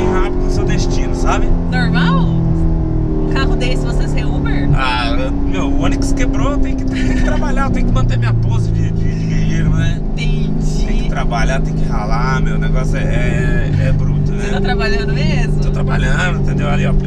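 A Corvette's engine revving and pulling under acceleration during a ride-hailing trip, a loud steady roar filling the whole stretch, with people talking over it throughout.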